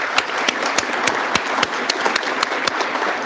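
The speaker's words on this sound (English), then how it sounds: "Can we clap for that?" Audience applause at a corrections officer academy graduation ceremony, steady crowd clapping with sharp individual claps standing out, continuous for the whole stretch.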